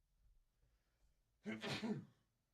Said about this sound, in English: Yeah, sneeze.